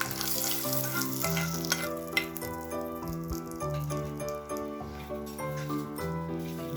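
A curry leaf tempering sizzles in hot oil and is poured into pirandai (adamant creeper) chutney, giving a continuous close frying hiss with light clinks, under steady background music.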